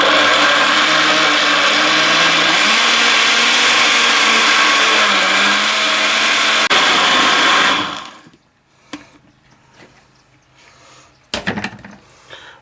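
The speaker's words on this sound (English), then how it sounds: "I gotta blend this up first." Kitchen blender whirring loudly as it purees cilantro for green spaghetti sauce, a steady motor roar with shifting pitch for about eight seconds, then stopping, followed by quiet clinks and handling noises.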